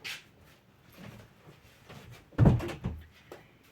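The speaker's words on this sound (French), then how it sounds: "Attendez, je vais fermer la porte." A door shuts in a home with a single sharp thud and a short rattle, fairly close, after quiet room tone with no talking.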